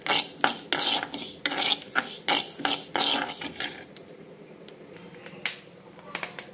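Sesame seeds roasting in a pan for a Telugu bottle gourd chutney, with a spoon scraping and clinking against the pan in quick bursts, close and fairly loud, fading into quieter stirring.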